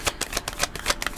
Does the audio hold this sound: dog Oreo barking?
no